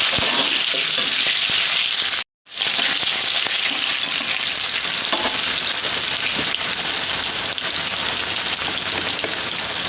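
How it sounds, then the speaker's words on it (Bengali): Nigella seeds, a dried chili and tomato fry in hot oil, giving a dense, steady crackling sizzle up close that continues throughout apart from one short silent break. "অল্প একটু কালো জিরে, লঙ্কাটাকে একটু ফুটিয়ে নিয়ে ভালো করে কালো করে নেব"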